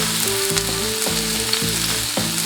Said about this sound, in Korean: 양파를 넣어준 뒤에 타지 않게 잘 볶아줍니다